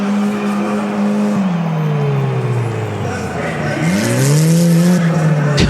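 Sebastian Vettel's Red Bull Formula 1 car with a Renault engine attempts a donut at the Race of Champions in Düsseldorf, its engine note rising and falling as the tyres squeal and skid, loud and close under crowd and commentary noise.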